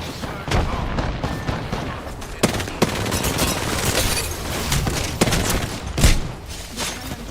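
Smart bullet gunfire in Apex Legends, several sharp separate shots cracking out at irregular intervals over a busy backdrop of combat noise, loud and close.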